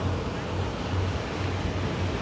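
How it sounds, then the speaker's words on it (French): Intense ocean waves at sunset in Mirissa, Sri Lanka, produce a steady, loud roar of surf mixed with wind buffeting the microphone, continuous throughout the short stretch. "Mais là, les vagues, elles sont présentes. Elles sont intenses."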